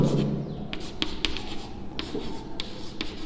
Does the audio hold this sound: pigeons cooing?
no